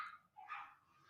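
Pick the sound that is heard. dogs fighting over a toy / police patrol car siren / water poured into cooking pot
dogs fighting over a toy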